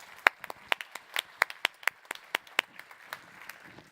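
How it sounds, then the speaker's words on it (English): Scattered, sparse claps from a small conference audience applauding three finalists at a plenary session: a dozen or so separate hand claps, fairly faint and irregular, thinning out toward the end. "I'd like you to join me in giving them a round of applause for their work"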